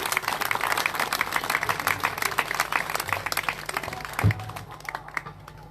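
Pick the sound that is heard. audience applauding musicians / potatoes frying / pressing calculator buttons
audience applauding musicians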